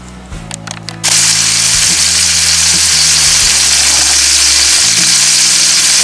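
Food sizzles loudly in a hot pan for chicken breast, a constant dense hiss that starts abruptly after a second of quieter clatter and continues without a break, with a low hum underneath.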